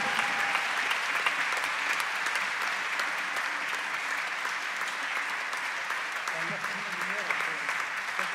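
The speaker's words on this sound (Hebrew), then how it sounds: "מגיע לו הרבה הרבה הרבה כפיים" Concert audience applause for an orchestra, dense sustained clapping from a large crowd filling the hall, loud and even throughout, with a few voices faintly audible within it.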